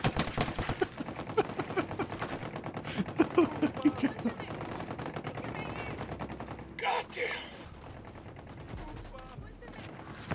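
Rapid gunfire from the shooter video game Ghost Recon Wildlands crackles in dense, overlapping bursts, loud and sustained through the first half, then thins into scattered shots with a brief lull near the end.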